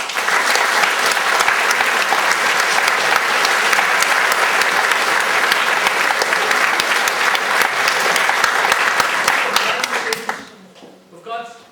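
A crowd breaks into loud, sustained applause that holds steady for several seconds before fading out.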